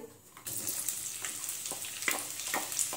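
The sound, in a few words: onion sautéing in oil in a kadhai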